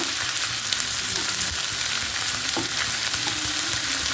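A large onion sautés in a non-stick pan until it browns. It gives a steady, close sizzle and frying hiss the whole time, with a few soft stirring scrapes and no talking.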